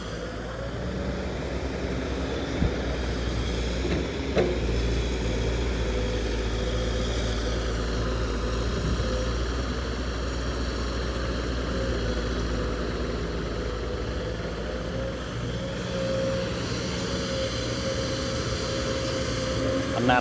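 A four-cylinder engine on a digging machine runs steadily and loudly throughout, a deep continuous rumble with a low hum and no break, close to the listener.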